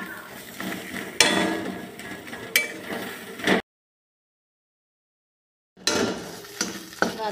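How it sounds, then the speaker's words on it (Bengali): Ghetkol leaves stir-fried in a pan: scraping and knocking of a spatula over a continuous sizzle, cut off by a stretch of total silence before the stirring resumes. "এবার ওই ঘাটকোল পাতাটা দিয়ে নাড়িয়ে নেব। এটা দিয়ে ভালো করে একটু ভেজে নেব।"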